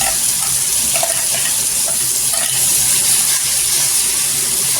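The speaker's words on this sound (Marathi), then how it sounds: "मी ते टोमॅटोची फ्युरी बनवलेली ती टोमॅटोची फ्युरी टाकून घ्यायची" Tomato puree hitting hot oil for a dhaba-style egg masala, a loud, continuous hissing sizzle of frying close up, with no voices over it.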